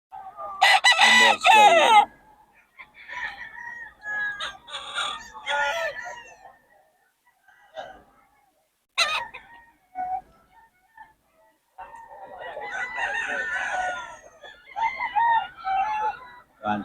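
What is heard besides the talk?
chickens and roosters crowing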